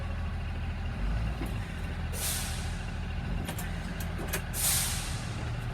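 A bus idles with a steady low rumble, then sharp hisses of its air brake burst out as the service brake is applied during a slow five-mile-an-hour roll forward, close and loud.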